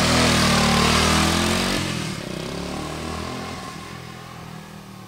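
A 1965 Honda S90 motorcycle engine roars loudly up close at high revs, then drops to a lower, steady running note for the rest of the clip.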